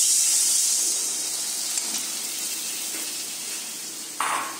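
Turmeric salt water hitting hot oil with cumin seeds in a frying pan of fried fish for Bengali fish curry, giving a steady, fairly quiet hiss and sizzle that slowly fades, with a brief clink near the end.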